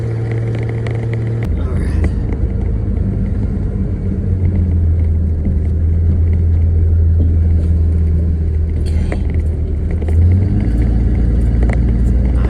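A truck on old, dry-rotted and cracked tires drives along, a loud low engine and road rumble that holds steady, with a shift in pitch partway through and near the end.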